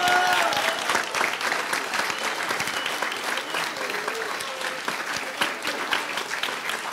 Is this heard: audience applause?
yes